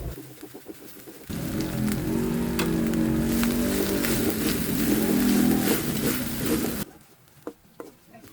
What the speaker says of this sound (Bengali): তারপর কড়াইতে তেল গরম করে তেলের মধ্যে দিয়ে দিতে হবে পেঁয়াজ, রসুন এবং সরিষা পিষা, তেজপাতা, দারচিনি, এলাচি এবং জিরে গুঁড়ো